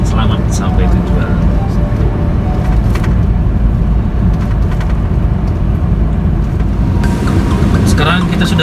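Daihatsu Ayla hatchback cruising about 80 km/h on a toll road in rain, a steady dense roar of road, tire and rain noise filling the cabin, with brief louder bursts late on.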